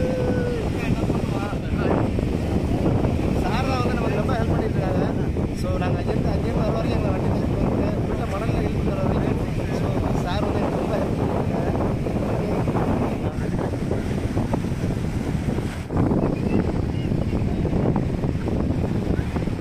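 Steady wind roars across the microphone while sea waves wash continuously on Velankanni beach at night, a dense, loud rumble with no clear breaks.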